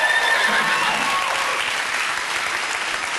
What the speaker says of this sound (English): Please make some noise for King and Queen of the Hermaphrodites, Stuart.